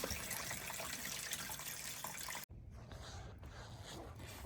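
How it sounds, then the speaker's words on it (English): Very hot water pours into a basin to about an inch deep, a steady hissing splash that breaks off sharply partway, then resumes as a softer trickle. "we're going to fill this basin up about 1 inch deep, and this is really hot water"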